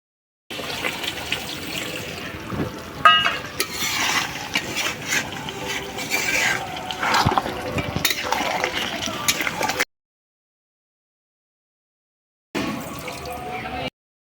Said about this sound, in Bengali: এতে এবার পরিমাণ মতো জল অ্যাড করে দেবো।